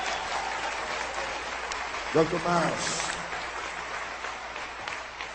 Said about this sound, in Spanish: ¿Qué le parece si lo recibimos con un aplauso bien grande?